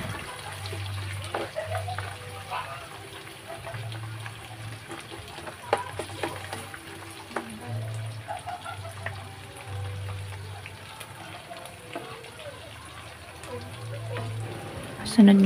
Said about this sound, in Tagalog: Maggisa ng sibuyas.